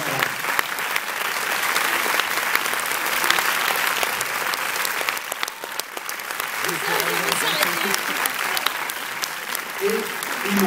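Steady cinema audience applause at a film premiere for the movie Samba, a dense wash of clapping that holds loud and even throughout, with faint voices and cheers mixed underneath.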